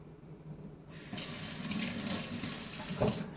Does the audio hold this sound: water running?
yes